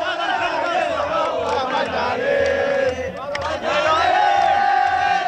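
Crowds of football fans in Jeddah celebrate a win with loud, continuous shouting, chanting and whooping, a dense roar of many voices that dips briefly before surging again.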